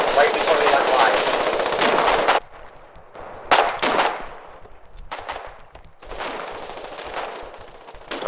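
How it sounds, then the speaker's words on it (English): Gunfire in a war video game, Foxhole, at the Jade Cove ramp. There are long bursts of automatic fire and scattered shots, some loud and some more distant, heard under someone talking. "There are lots of gunfire in the background that we're picking up."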